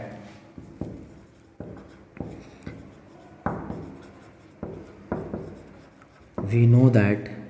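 A mean deviation about the median formula is written out in a series of scratchy, rhythmic strokes with short pauses between them, close and clear, ending in a louder rubbing burst.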